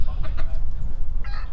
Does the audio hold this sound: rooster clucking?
yes